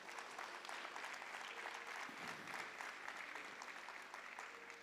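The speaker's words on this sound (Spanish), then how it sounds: "Dale un aplauso al Señor." A church congregation claps together in a steady, sustained round of applause that fills the room at moderate volume, easing slightly toward the end.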